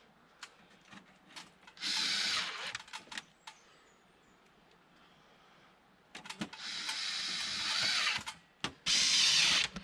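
Cordless power drill driving screws into wooden trim on a storm-damaged cottage, with two long bursts of high whirring and a short final burst, separated by quieter clicks and handling knocks.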